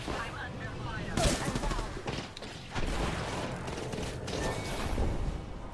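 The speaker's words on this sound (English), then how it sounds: "That's another squad shooting at us." Bursts of enemy squad gunfire in the Apex Legends battle royale game, scattered rapid shots and sharp cracks rising and falling over several seconds, fairly loud and mixed with game effects and a voice talking.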